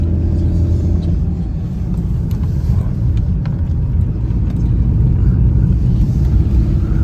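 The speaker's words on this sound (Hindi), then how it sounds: "और भाई गाड़ी दम तोड़ रही है, ऐसी चढ़ाई है" Car engine labouring up a steep mountain climb on a night drive from Kaza toward Sangla Valley, a loud, continuous low rumble and drone heard close up, with no talk.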